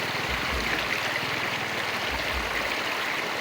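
Running water during an outdoor bath, a continuous rushing, stream-like wash with faint splashy texture and low thumps, close and steady throughout with no voices.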